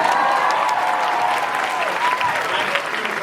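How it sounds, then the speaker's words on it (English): An audience at a drag convention panel claps loudly and steadily, a thick continuous patter of many hands, with a voice carrying over the applause throughout. "Applaud if you want to see that"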